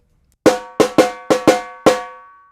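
A samba leader plays a call pattern on a drum, six sharp ringing strokes in an uneven rhythm, close and loud with no talking.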